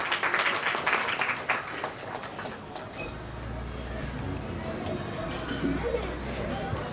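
Guests clapping at a baby's first birthday celebration, a steady wash of applause from a crowd with murmuring voices underneath, holding at an even level throughout.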